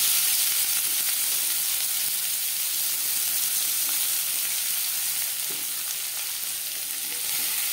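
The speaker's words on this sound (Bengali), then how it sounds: "মাছ ভেজে নেওয়া তেলে দিয়ে দেবো পেঁয়াজ কুচি।" Chopped onion sizzling in hot oil left over from frying tilapia for a Bengali fish curry, a steady close hiss with occasional stirring, no talk.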